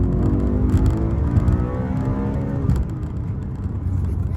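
A V8 engine in a BMW M3 E90 runs loud and steady, its deep rumble rising and falling slightly as the revs change, with no talk over it.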